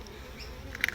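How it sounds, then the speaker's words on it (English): Honeybees buzzing around an open beehive during a beekeeping inspection, a soft close hum with a few sharper buzzes near the end, without talk. "There's a lot more bees in this hive."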